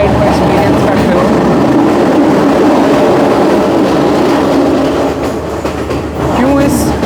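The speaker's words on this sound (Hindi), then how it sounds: "जब आप इस ट्रेन राइड को एक्सपीरियंस करते हो" A passenger train on the route from Ella, Sri Lanka, heard from on board: loud, steady rumbling and clatter of carriages on the rails, continuous throughout, with voices mixed in.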